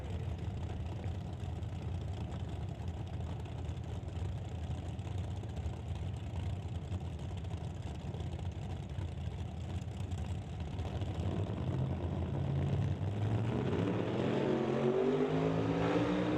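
Drag race cars, a Camaro and a Nova, launch down a quarter-mile strip at a summit ET bracket race: a steady low engine drone that swells and rises in pitch near the end as they accelerate away.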